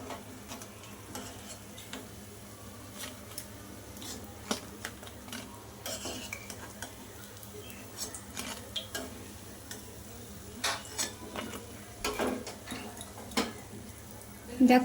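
Pumpkin flower fritters fry in oil with a low, steady sizzle. Frequent light clinks and taps of a utensil against the pan sound close by, and the clatter grows busier toward the end.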